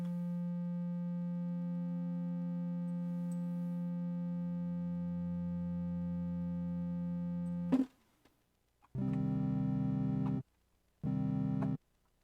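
Pure synthesized sine tones a fifth apart hold a steady layered chord, cut off abruptly, then two more short bursts of the stacked tones follow with silence between.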